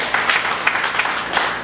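Church congregation clapping in praise, a dense burst of many hands applauding together with no voices over it.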